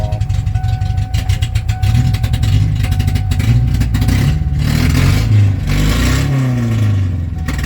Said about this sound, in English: You can hear the injectors clicking their brains out.